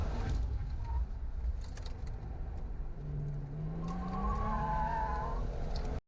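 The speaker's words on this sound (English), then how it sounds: "I get on the throttle and then it kicks out sideways" A hillclimb race car slides sideways under throttle. A steady engine drone rises into a wavering tyre squeal partway through, heard close and continuous.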